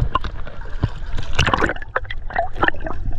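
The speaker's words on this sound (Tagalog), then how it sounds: "Grabe, ang lakas ng alon." Strong sea waves splash and slosh close by on a boat trip off Oslob, Cebu, with irregular watery bursts and gurgles over a steady rumble.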